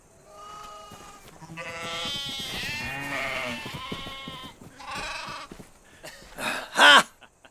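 Several sheep bleating nearby in a farm setting, a series of wavering calls overlapping one another, ending in a louder, sharper bleat.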